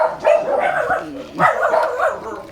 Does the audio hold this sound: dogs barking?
yes